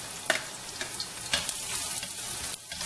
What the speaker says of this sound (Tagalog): igisa na po natin siya sa bawang niya